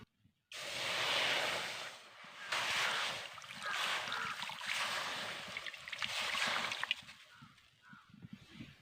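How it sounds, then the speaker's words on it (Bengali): Water poured into a kadai (wok-style pan) while making puli pitha, a steady rushing slosh that runs in loud sustained bursts for most of the clip, with no talk over it. "আমি কোড়ার মধ্যে জল দিয়ে দিচ্ছি"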